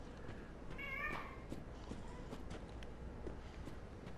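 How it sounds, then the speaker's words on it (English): A cat gives a single short meow near the start, fairly close but not loud, over a steady background hum with faint knocks and shuffles around it. "There's a cat meowing."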